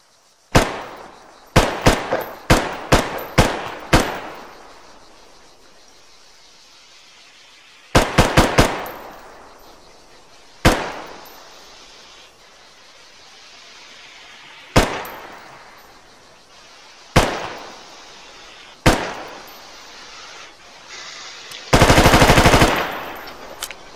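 Full-auto gunfire from an RHS weapon in a video game: loud rapid bursts and single sharp shots spaced through the clip, with a dense sustained burst near the end, no talk.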